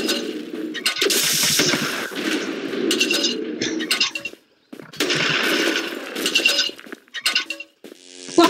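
Rapid bursts of gunfire from several different guns in a video game, loud and dense with metallic clinks, continuous for several seconds with a brief gap before more firing.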